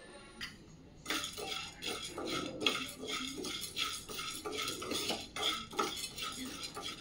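A spoon stirs and scrapes dry sabudana as it roasts in a pan over slow to medium heat, making soft, steady clinks and rattles close by with no talking.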